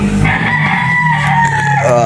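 A gamefowl rooster on a game farm in Batangas crows once, loud and close, a long drawn-out call with a rising, strained finish, alone without talk.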